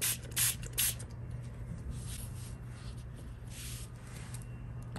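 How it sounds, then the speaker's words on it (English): A few quick hissing bursts of a spray bottle misting at the start, followed by soft rubbing and scratching sounds close by with a low hum beneath. "I use some spray to make it"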